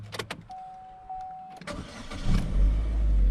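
A Chevrolet Cruze engine cranks and fires up, its starter whirring briefly before the motor catches and settles into a steady, close, loud idle rumble, with a few clicks and a chime heard beforehand.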